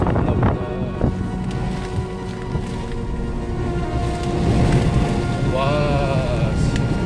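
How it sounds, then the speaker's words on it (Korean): Heavy rain and strong wind from Typhoon Maysak lash a caravan campsite on Chujado island, making a loud, steady roar of downpour and gusts buffeting the microphone, with a voice briefly exclaiming over it. "이제 비가 좀 많이 오기 시작하네, 아까보다."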